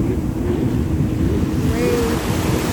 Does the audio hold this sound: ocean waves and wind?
yes